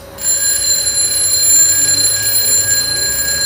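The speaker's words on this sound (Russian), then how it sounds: "Давайте сначала послушаем его звонок в обыкновенном пространстве, чтобы оценить силу звука." A battery-powered electric bell rings continuously in ordinary air, a loud, bright, steady metallic jangle with sustained high overtones for the whole stretch and no voices.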